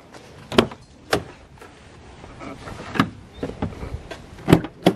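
Sharp mechanical clicks and clunks of a locked BMW E36 M3 door handle being worked repeatedly, several distinct snaps spaced irregularly, close by.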